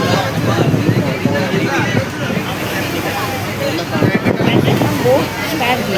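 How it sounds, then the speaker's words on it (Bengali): A boat setting off on a trip to Elephanta Caves, its engine drone and water wash mixed with wind on the microphone and a crowd of passengers chattering, steady and close throughout. "বোট স্টার্ট দিয়ে"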